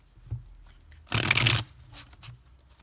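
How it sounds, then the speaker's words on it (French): Tarot cards are shuffled in one short, close riffle burst lasting about half a second, with soft card handling taps before and after and no speech. "On va poser les 6 cartes."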